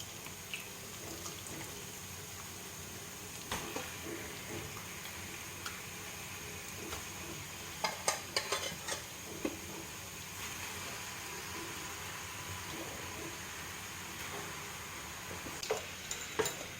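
Marinated chicken cooked without oil, with onion and tomato, is stirred in a pan: a soft, fairly faint sizzle under scattered utensil scrapes and taps, with a small cluster of clatters partway through.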